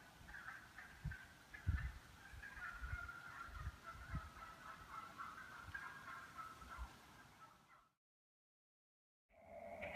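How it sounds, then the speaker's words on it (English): Wild turkeys in a flock call in the woods, with a steady run of gobbling and clucking notes over low thumps and rustle. The sound breaks off into silence near the end, then briefly returns. "Two flock of turkeys. I see must have found each other."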